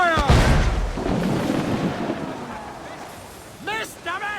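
Ship cannons in Assassin's Creed 4 Black Flag fire in a heavy booming burst at the start, then a long rumbling decay under sea ambience, with shouted voices near the end.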